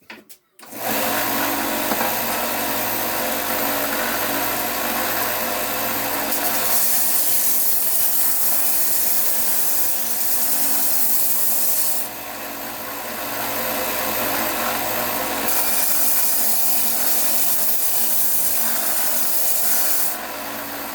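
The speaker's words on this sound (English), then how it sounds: "I'm just going to run them across this belt sander real quick." A belt sander roars steadily against wood in a workshop for a long stretch, a loud continuous grinding whir that shifts in pitch as pressure changes.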